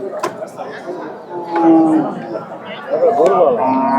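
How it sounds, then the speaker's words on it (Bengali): Cattle at a crowded livestock market give drawn-out moos, one in the middle and a louder wavering one near the end, amid background chatter and people talking close by. "এই পাশে আরো গরু আছে পালন উপযোগী গরু আছে"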